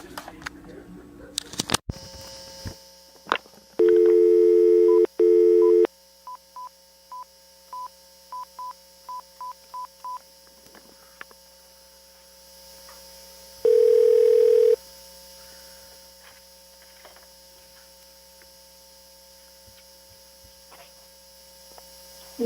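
Telephone line tones open a recorded police phone call: a dial tone, a rapid run of DTMF keypad beeps, and two long steady ringback-style tones, all over a constant mains hum with faint background noise and no talk.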